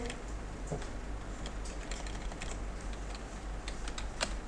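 Fingers typing an SQL query on a computer keyboard in a classroom, with steady, close clicking of keys continuing throughout and no talking.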